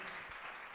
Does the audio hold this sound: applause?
yes